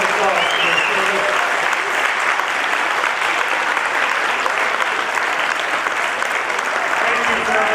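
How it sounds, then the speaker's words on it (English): An audience applauds police officers and firefighters at a Philadelphia community prevention event, steady loud clapping from a full room lasting the whole stretch. "Let's give them a round of applause for their service."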